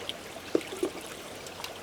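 A small forest stream in the taiga trickles and gurgles steadily at low volume, with a couple of brief splashy plops standing out above the constant flowing water.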